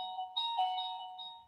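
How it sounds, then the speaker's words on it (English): An indoor doorbell chimes a short ding-dong of clear bright tones that ring out and fade over about a second and a half, heard alone. "That's the doorbell going."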